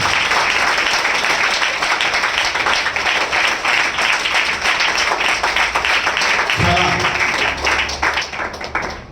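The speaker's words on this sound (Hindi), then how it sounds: "हम जोरदार ताली से उनका स्वागत करें" A church congregation claps loudly and continuously in welcome. A brief voice rises near the end as the applause thins and tapers off.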